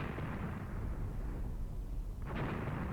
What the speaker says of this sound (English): And my mortars are opening up as well.